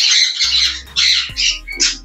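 A blue pineapple conure, a small parrot, gives a series of harsh, loud squawks in quick bursts, close up, with a low hum underneath and no voices.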